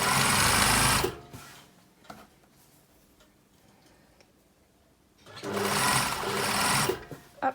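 A home sewing machine stitches bias binding onto a blouse neckline in two loud, steady whirring runs, one at the start and one near the end, separated by quiet handling clicks.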